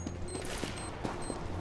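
Gunfire in Counter-Strike: Global Offensive crackles in a quick fusillade of several rapid shots, fairly faint and distant-sounding, spaced unevenly across the moment.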